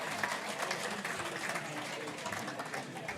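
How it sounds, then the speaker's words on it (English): Audience applause fills a room at a football club's player of the year awards dinner, a steady dense patter of clapping held at an even level throughout with faint crowd murmur. "Yes, a round of applause."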